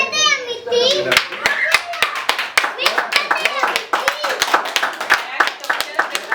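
Children clap their hands in a quick, uneven rhythm of sharp, close smacks, mixed with excited young voices chattering and calling out over the clapping throughout.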